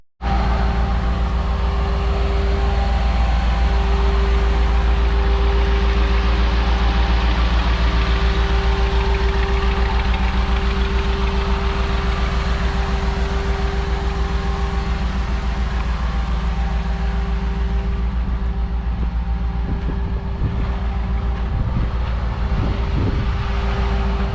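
An FMC XR-311 Humvee prototype engine fires up abruptly and settles into a loud, steady idle with an even low rumble and faint ticking that continues unchanged.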